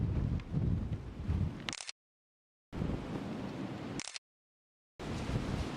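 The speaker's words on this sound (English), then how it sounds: "I think that see, that's what it is. It's the wind." A gust of wind roars during a New York City blizzard, broad steady noise in bursts that cut out abruptly between segments, loud and close with no talk.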